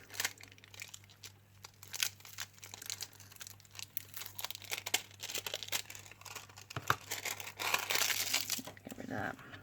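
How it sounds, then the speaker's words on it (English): Backing sheet peeled off a Gemex craft kit, a steady crinkling, tearing rustle of plastic film close by, swelling toward the end, with a faint hum underneath. "Let's peel the back off."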